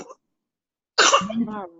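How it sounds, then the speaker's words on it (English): A single short cough close to the microphone after a moment of silence, followed by a brief voiced sound. "she got a little cough"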